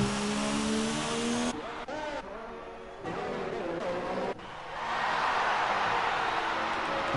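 Race cars roar through a lap of the F1 2019 video game at the Japanese Grand Prix, loud sustained engine whine with pitch shifts as gears change, settling into a broad steady rush toward the end.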